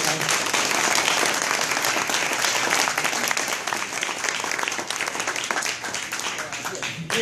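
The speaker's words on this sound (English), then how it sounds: "one more round of applause for everyone who participated today." Audience at a Martin Luther King celebration event gives a round of applause, loud sustained clapping from a sizeable crowd that fades slightly toward the end, with voices mixed in.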